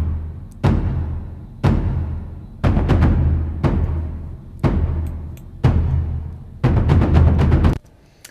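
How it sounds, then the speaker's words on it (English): Loud, booming taiko drum hits from an orchestral score track, struck about once a second in a steady series of seven heavy, resonant thumps, each ringing out before the next, with no other instruments or voices. "now we'll look at the taiko, which is the big drum, which has got this very, you know, huge and commanding sound."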